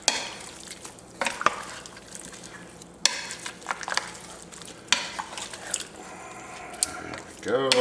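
A spiced beef mixture with cumin, made for beef roast enchiladas, is stirred in a pot, giving scraping, sloshing bursts of spoon against metal close by. A voice talks briefly over it.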